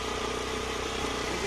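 A motorbike engine runs on a mountain road from Silchar in Assam toward Mizoram, a steady, loud mid-pitched drone that fills the whole short stretch without a break.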